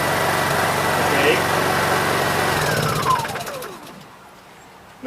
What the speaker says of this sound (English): it will start on the first pull.